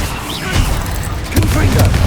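Bombarda explosion spell cast in Hogwarts Legacy, heard as loud booming blasts with a heavy impact near the end, layered over constant battle noise and game effects.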